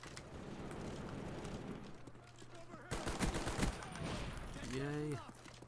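Short bursts of M16 rifle fire in Call of Duty: Black Ops, a few sharp rapid volleys among game noise, fairly faint in the mix.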